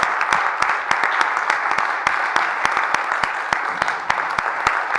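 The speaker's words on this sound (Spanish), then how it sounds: "Un aplauso por la participación." Audience applause after a public civic event in Mexico City, dense steady clapping from a crowd with sharper individual claps standing out, held at an even level throughout.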